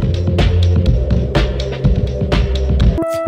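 Lo-fi synth pad with noise, amount and voices maxed out and heavy reverb, a dense sustained chordal drone with rhythmic pulses and noisy bursts, ending in a brief ringing tail.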